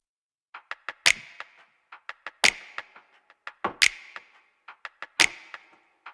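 A percussion loop sampled from a drum pack: crisp ticking clicks in a steady repeating pattern, punctuated about every 1.4 seconds by a louder, sharper hit, played clean with no voices.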